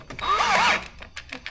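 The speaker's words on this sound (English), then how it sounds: "I am going to use the self-tap screws, but now I'm going to firmly bolt this one down" Power drill driving a self-tapping screw into a BMW X5 front splitter, one short rising and falling whir up close, followed by a few faint clicks and handling noises.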